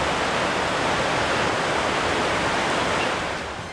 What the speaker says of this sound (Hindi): नदी अपने पूरे वेग के साथ बह रही है